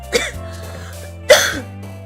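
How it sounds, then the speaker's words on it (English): Two short, close coughs about a second apart, each a sharp burst with a brief tail, over a steady low hum. "Coughing."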